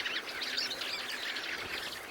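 A flock of fieldfares feeding in rowan trees in the Tatra Mountains calls continuously, a dense chatter of overlapping chirps and chuckles heard outdoors at moderate distance.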